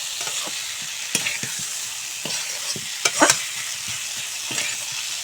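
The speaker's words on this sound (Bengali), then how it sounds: "আলু আর মটরশুঁটি দিয়ে আবারও মশলার সঙ্গে ভালো করে কষিয়ে নেব।" Potatoes and peas sautéing with spices in a pan, a steady sizzle of frying broken by sharp scrapes and clacks as a spoon stirs, with no talk.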